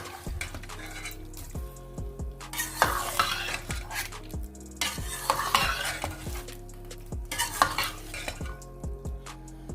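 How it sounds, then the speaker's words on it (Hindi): Chicken karahi is stirred in a pan in repeated rounds of scraping and clattering, with a spoon knocking against the metal over a steady sizzle, each burst followed by a quieter gap, with no talking. "अब इसको अच्छे से फिर से मिक्स कर देंगे"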